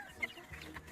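Chickens clucking in a coop being dusted with lime, a short, faint burst of hen calls with one brief sharper note over low background noise.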